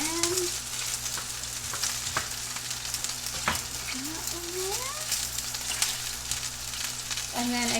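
White parts of sliced green onions fry in a pan with a steady, close sizzle, brief clatters of a utensil stirring through them, with faint talk in the background.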